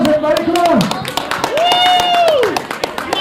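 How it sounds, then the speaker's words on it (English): A scattered round of applause from a small audience at a Halloween event, with uneven claps alongside talk and bright, sweeping electronic tones. "Let's give you a round of applause, everybody."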